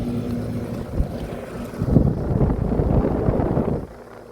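Two Trane XR14 central air conditioner units run in cool mode, a steady low rumbling whir of fan and compressor that swells slightly midway and eases near the end.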